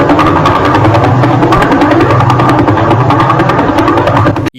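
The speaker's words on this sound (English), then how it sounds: "it's actually a neutron star that spins around 700 times a second, emitting electromagnetic waves and making noise." Radio emissions from the Vela pulsar, a spinning neutron star, are converted to sound: a rapid, loud, evenly spaced pulsing throb resembling a helicopter, continuous until it cuts off at the end.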